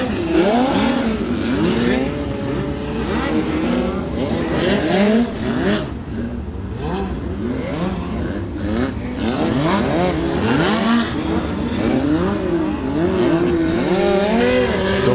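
Race cars from a Silver Crown event lap through the turns, engines rising and falling in pitch as several cars pass in quick succession, a continuous loud roar with overlapping revs throughout.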